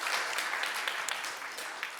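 Brief applause from a church congregation at a New Year worship service, a couple of seconds of dense, fairly quiet clapping with no voices over it.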